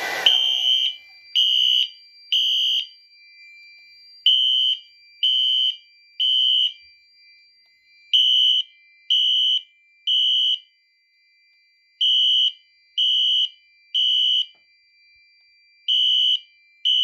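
A Fire-Lite MS-5UD fire alarm system sounds nearby after a heat detector test, in a repeating pattern of three loud, shrill beeps, each group followed by a short silence.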